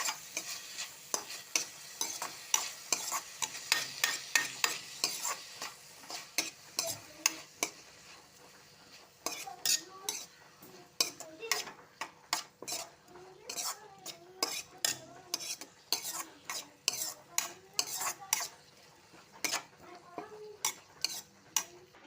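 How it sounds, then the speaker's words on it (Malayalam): Leftover rice for tomato rice is stirred and sautéed in a pan with salt. A spoon scrapes and clinks against the pan in a quick, repeated rhythm over a faint sizzle, close and steady for the whole stretch. "നമുക്ക് നന്നായിട്ട് നല്ല വഴറ്റിയെടുക്കണം"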